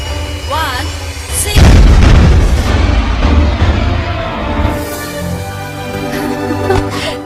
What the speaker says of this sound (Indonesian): Peluru kendali itu diledakkan di tempat yang sepi dan tidak ada penduduk.